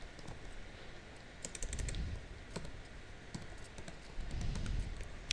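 Computer keyboard keys tapped in short irregular bursts of clicks, close and quiet, with soft pauses between keystrokes.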